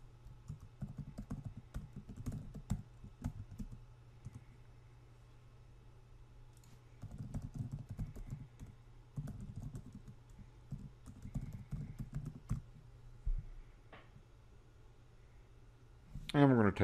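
Clicking keys on a computer keyboard come in short, uneven bursts separated by pauses, fairly faint and close, as someone types a command.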